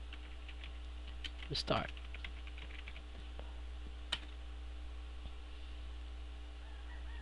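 Keystrokes on a computer keyboard while entering a Linux server command, a short cluster of quick taps and a few isolated clicks under a steady low hum, with brief speech.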